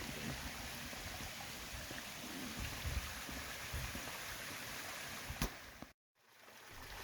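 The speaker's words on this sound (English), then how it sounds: "there's a creek that runs along the pathway" A creek runs beside a stepped pathway, giving a steady broadband rush of flowing water with a brief sharp click and a momentary dropout near the end.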